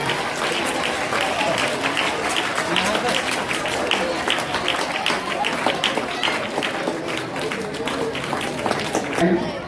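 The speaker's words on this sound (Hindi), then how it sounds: "भाई जोरदार बजाइए, जोरदार तालियां आपकी वजह से।" Schoolchildren clapping loudly at a welcome ceremony and best teacher award event at an Urdu school, a steady rattling roar of hands close by with continuous crowd noise and a voice talking over it.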